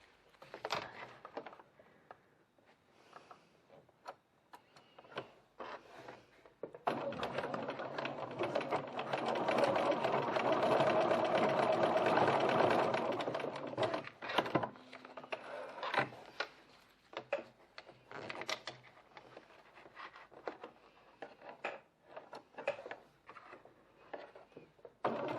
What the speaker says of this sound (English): Now pop over to your machine and stitch those ends together